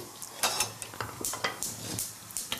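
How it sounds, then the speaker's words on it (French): A gas stove burner lit under a frying pan in a TV kitchen while cooking rice with mushrooms, giving rapid clicking and ratcheting knob sounds along with light metallic clatter close by. "peut-être que je vais allumer sous l'autre poêle parce qu'on va mettre à poêler nos champignons"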